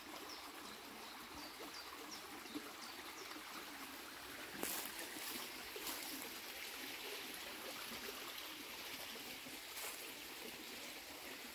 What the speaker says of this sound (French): j'adore écouter le bruit de l'eau